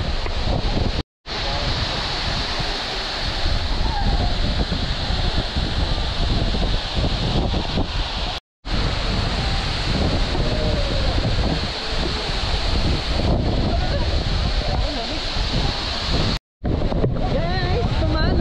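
Tumalog Falls waterfall pours in a steady, loud rushing roar mixed with wind buffeting, broken by a few brief dropouts, while a voice talks over it.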